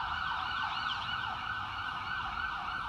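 An emergency vehicle siren wails steadily and loudly throughout, its pitch sweeping up and down in a continuous rising-and-falling pattern, heard alone without speech.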